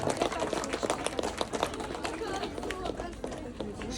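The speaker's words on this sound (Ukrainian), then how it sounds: "І настав саме час дістати капсулу із зверненням з 1995 року. Під ваші оплески" A crowd applauds as a 1995 time capsule is retrieved at a public gathering in Poltava, a dense, continuous patter of many hands mixed with chatter and voices in the crowd.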